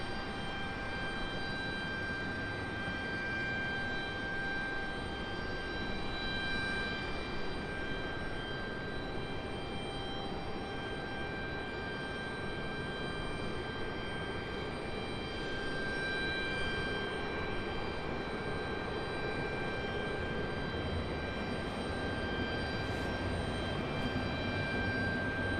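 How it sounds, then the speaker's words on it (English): A Boeing 777 jet airliner at Raleigh-Durham International Airport gives off a steady, loud engine roar with sustained high whining tones, holding constant for the whole stretch without speech. "Enjoy the sounds of the 777."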